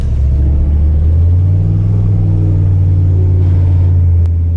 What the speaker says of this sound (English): The truck runs and drives, as you can see.